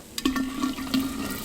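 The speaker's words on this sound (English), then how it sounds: "So now I'll take this and then pour it into the other 2 cups of" A foamy blended solution is poured from a container into a jar of water, making a steady splashing, gurgling stream close by with no talking.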